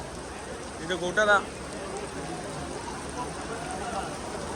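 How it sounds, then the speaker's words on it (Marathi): Rain falls steadily on a procession of palkhi pilgrims climbing the Sinnar ghat, a continuous soft patter and hiss throughout, with people briefly talking and calling out near the start. "पाऊस पडतोय"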